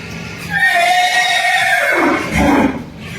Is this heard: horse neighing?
yes